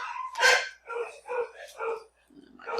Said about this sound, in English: they're still barking, but I've closed the doors